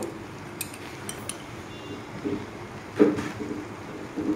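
A lid goes onto a pot of Bengali vegetable biryani with paneer and potato. It lands with a single soft clink against a faint, steady background hiss.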